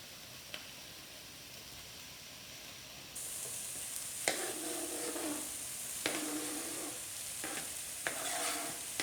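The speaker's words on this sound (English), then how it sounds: "I might have to start yelling, it's sizzling so loudly here." Onions sizzling in a skillet as they are stirred, a steady frying hiss that jumps louder partway through, punctuated by repeated scraping strokes of the utensil, close and with no talking.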